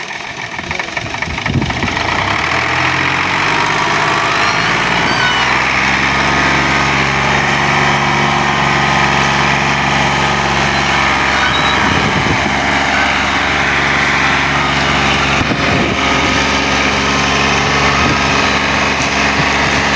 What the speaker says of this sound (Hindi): ट्रैक्टर बहुत ज़्यादा अभी जोर लगा रहा है।